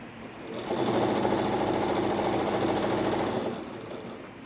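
A sewing machine stitches fabric in one steady, close, continuous run of rapid mechanical whirring lasting about three seconds, starting and stopping cleanly, with quieter room tone before and after.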